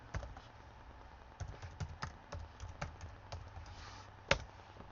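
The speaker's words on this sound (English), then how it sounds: "if you just type in open broadcaster" Typing on a computer keyboard on a Windows 10 PC, with irregular bursts of quiet clicks and one sharper keystroke near the end over a low background hum, with no talking.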